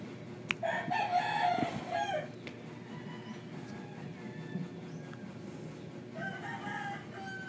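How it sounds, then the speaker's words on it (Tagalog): Neighbouring chickens and roosters crow loudly close by in a residential yard, one long crow early on and another starting near the end, with softer clucking and background noise between. "Shout out nga pala sa mga manok sa kapitbahay namin. Ang ingay-ingay."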